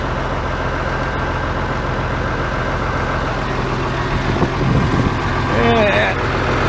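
An Oliver 575 tractor engine runs steadily at a low, continuous rumble close by, holding an even idle throughout with a slight swell near the end while a voice talks over it.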